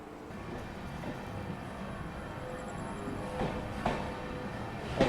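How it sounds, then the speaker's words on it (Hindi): An Amrit Bharat Express push-pull train departs Unnao Junction and picks up speed, a low, faint rumble of wheels and carriages building steadily with a few soft knocks toward the end; no voices. "और अच्छी खासी स्पीड में अपनी ट्रेन डिपार्चर ले रही है उन्नाव से"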